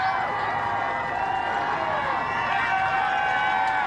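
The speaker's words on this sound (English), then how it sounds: "Create some crowd noise here from the far side of the field." A steady murmur of crowd noise drifts from the far side of a high school football field during the Dobbs Ferry versus Schuylerville game. It is a continuous, even roar with a faint voice mixed in.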